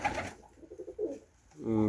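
Pigeons coo in a short series of soft, low, pulsing notes close by, with a brief burst of voices before and after.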